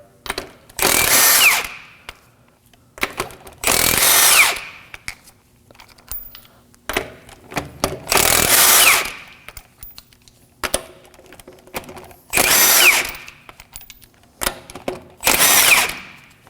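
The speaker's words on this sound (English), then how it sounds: "Using a 19mm socket, we're going to remove the tire." An impact tool with a 19mm socket spinning off front wheel lug nuts on a 2014-2020 Acura MDX: five loud, close, whirring bursts of one to two seconds each, separated by quiet gaps with faint handling clatter.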